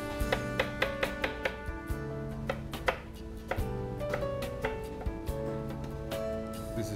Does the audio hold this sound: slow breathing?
no